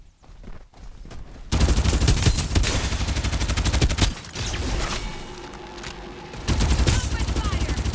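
Gunfire in the video game Farlight 84, rapid bursts of automatic fire in long sustained volleys broken by short pauses, loud and close.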